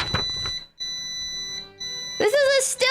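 A still-air quail egg incubator beeps with steady electronic tones of a few sustained pitches, broken by brief gaps, while someone speaks before and after.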